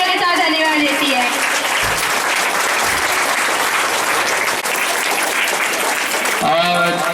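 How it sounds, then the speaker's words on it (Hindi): Loud, sustained applause from a congregation fills a Friday morning prayer meeting, holding dense and steady throughout with a voice briefly emerging near the end. "इसलिए बहन परमेश्वर को जोरदार तालियों के साथ धन्यवाद देती है।"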